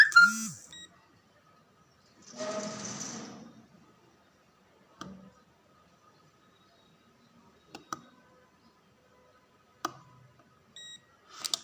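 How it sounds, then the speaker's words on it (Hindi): A multimeter beeps while an LED panel is tested for faults, giving short isolated beeps and clicks spaced several seconds apart over quiet, with a brief noisy burst early on. "एक बार बीप बजेगा, एक बार बीप नहीं बजेगा।"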